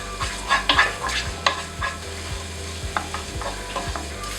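Masala for a Mongolian-style kingfish fry cooks slowly over low heat in a pan, a soft steady sizzle broken by repeated scrapes and stirring clatters of a spoon against the metal, close and with no talking.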